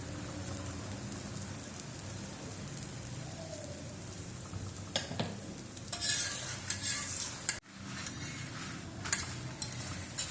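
A multi-layered lachha paratha cooks with ghee on a hot griddle, giving a steady sizzling hiss and occasional scraping and stirring noises. The sound stays close and moderately loud, with no one talking.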